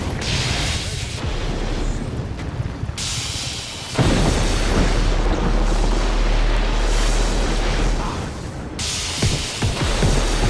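Flak cannon explosions in the Just Cause 3 video game, a dense barrage of deep booms and bursts rolling continuously, loud and close, with a rumbling low end and no talk.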